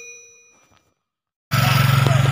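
A notification bell sound effect rings once as a clear fading ding, then cuts out and loud buzzing noise takes over.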